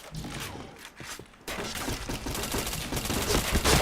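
Rapid gunfire bursts rattle through a match of the shooter video game Point Blank, loud and continuous.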